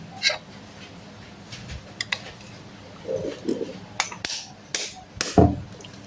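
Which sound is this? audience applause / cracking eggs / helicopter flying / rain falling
cracking eggs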